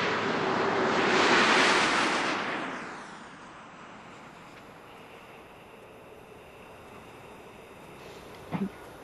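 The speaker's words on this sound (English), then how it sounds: "Main gear touchdown." Space Shuttle Discovery on mission STS-131 rolling onto the runway at main gear touchdown, a broad roaring rush that swells for a couple of seconds and then fades into a steady wind-like hiss, with a brief thump near the end.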